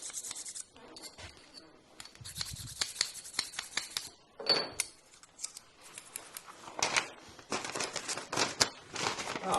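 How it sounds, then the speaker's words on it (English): Burr being knocked off the back of a freshly sharpened pair of old scissors: close, irregular bursts of scraping and rasping strokes with brief pauses between them, and no talking. "Just knock the burr off the back of it."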